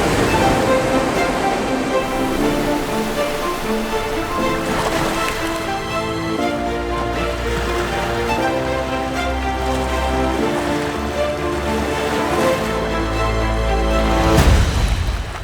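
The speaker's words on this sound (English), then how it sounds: "the crash of waves against volcanic cliffs creates a symphony of nature's raw power" Surf rolls and crashes onto Reynisfjara's black sand beach below volcanic cliffs on Iceland's south coast, a continuous wash of waves partly covered by layered music.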